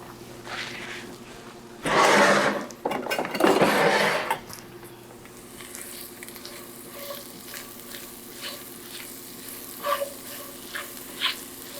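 Salted onions sweating in a pan toward caramelizing for Salisbury steak; a loud rustling burst of stirring or pan movement gives way to a soft, continuous sizzle dotted with light clicks and pops.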